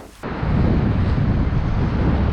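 Loud, steady wind buffeting the microphone on a beach, a roaring rush that starts abruptly and continues without pause.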